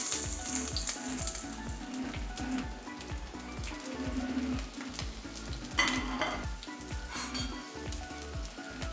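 Ginger, green chili, curry leaves and shallots fry for a fish curry, giving a steady close sizzle broken by rhythmic scraping and clinking as a spoon stirs the pan, with no voices.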